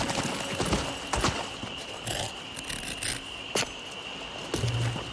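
Horse hooves clip-clop in Elder Scrolls Online as a character rides, a run of crisp, fairly close hoofbeats in an irregular trot over soft ambient game sound.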